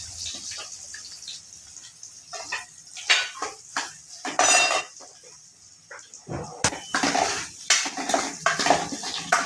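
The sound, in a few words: stirring and frying onions in pan for masala dosa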